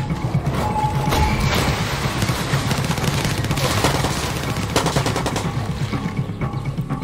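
Continuous gunfire in the video game Far Cry 6, dense rattling bursts over a rumbling game soundscape, loud and steady throughout with no talking.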